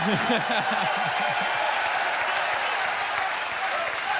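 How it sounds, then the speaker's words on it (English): A large crowd applauds steadily at the Tour de France 2022 team presentation, dense continuous clapping throughout, with a voice speaking briefly over it near the start. "Give a big applause."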